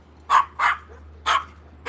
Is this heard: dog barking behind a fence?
yes